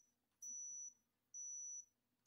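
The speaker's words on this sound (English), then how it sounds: "So now it's already beep beep beep." Three long, high-pitched electronic beeps from a digital thermometer taking an underarm reading, evenly spaced and steady, with quiet background between them.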